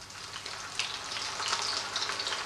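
Beer-battered food fries in hot oil, a dense, close crackling sizzle with bright pops that holds steady and builds slightly throughout, with no talking.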